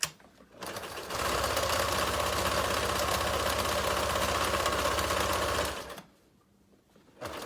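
Sewing machine running a long continuous seam down the 9-inch side of a fabric face mask, a loud, steady rapid whir of needle strokes lasting about five seconds, then stopping to near quiet.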